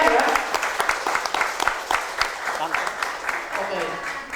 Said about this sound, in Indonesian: Kita kasih aplaus yang sangat meriah ya